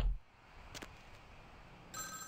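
A telephone rings in Vampire the Masquerade: Bloodlines, heard as a brief, fairly faint ring with a short electronic tone near the end, with no talk over it.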